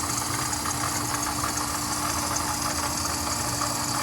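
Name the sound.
Jeep Grand Cherokee engine idling with rattling noise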